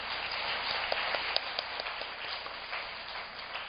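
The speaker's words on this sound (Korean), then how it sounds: "다시 한번 두 분께 큰 박수 부탁드리겠습니다." A seminar audience applauds, a faint, distant patter of many hands clapping that stays even and soft throughout.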